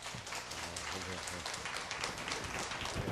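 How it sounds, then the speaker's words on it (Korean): A church congregation at a mothers' prayer meeting gives a missionary speaker a steady, dense round of welcoming applause for about three seconds, with a faint voice underneath. "환영의 박수 보내주시기 바랍니다"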